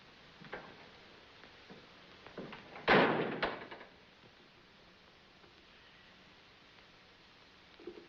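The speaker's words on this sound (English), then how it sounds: "When that door closes, it'll never open for you again." A door in a 1935 black-and-white film slams shut with one loud, sharp bang about three seconds in, fading quickly, surrounded by faint ticks and small knocks in an otherwise quiet room.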